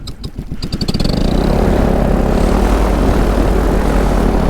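A paramotor's propeller engine starts with a few sputtering pulses and then settles into a loud, steady, close-up roar that runs to the end with no talking.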